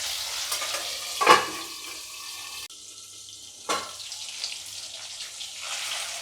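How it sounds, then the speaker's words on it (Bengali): Tomatoes softening in a pan over a low flame for Bengali aloo jhol give off a soft, steady sizzle, with two brief stirring or scraping sounds breaking through. "পুরো এই রান্নাটা এখন পুরোটাই আমি কম আঁচেই করছি, পুরোটাই লো ফ্লেমে মোটামুটি 5 মিনিট মতন এটা রেখে দেবো, টমেটোটা নরম হয়ে যাবে।"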